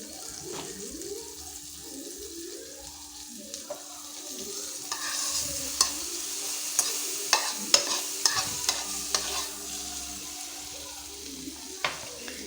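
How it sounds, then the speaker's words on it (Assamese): Butter melting in a pan over low gas, a quiet, steady sizzle with scattered faint clicks and light utensil taps, and a low hum running underneath. "এতিয়া পেনখন আমি গেছত, কম গেছত দি লৈছোঁ। তাত অলপ বাটাৰ দিব লাগিব।"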